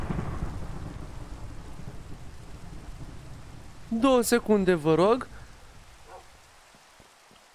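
Thunder and rain in a Minecraft-style video game: a low rumble and steady rainfall hiss run throughout and slowly fade near the end. A person speaks briefly in the middle.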